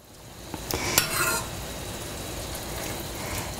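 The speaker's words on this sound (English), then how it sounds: "And then because we added liquid, we're going to stir." A wooden spoon stirs risotto in a pan after liquid is added, with a burst of close scraping and clinks early on, then a steady bubbling sizzle that keeps going.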